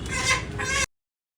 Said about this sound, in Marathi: कोंबडे घेतले दोन कोंबडे